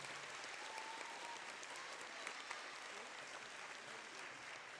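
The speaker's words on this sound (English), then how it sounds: "Warm round of applause." A crowd applauds steadily throughout at an 8th grade recognition ceremony, a dense, even clatter of many hands clapping at a moderate distance.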